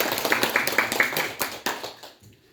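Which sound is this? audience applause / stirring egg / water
audience applause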